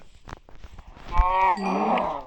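A cow lets out a single drawn-out moo, loud and close, rising and wavering over about a second, preceded by scattered shuffling and knocking sounds in a farmyard.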